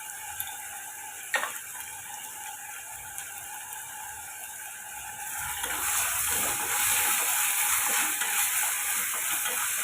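Mint, coriander and salt being sautéed for ghee rice: a steady pan hiss with occasional clicks and scrapes, growing louder and fuller about halfway through.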